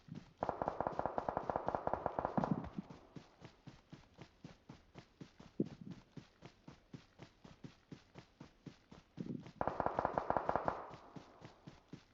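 Gunshots in the mobile battle royale game PUBG Mobile, two dense bursts of rapid automatic fire separated by a long stretch of steady sharp single pops, fairly faint and close, with no voices.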